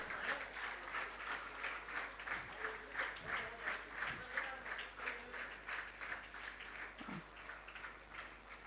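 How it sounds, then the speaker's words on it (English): An audience at an International Women's Day celebration claps in a steady, rhythmic, synchronized beat that pulses evenly for several seconds, with faint voices underneath. "it is your claps which is going to motivate them to achieve more"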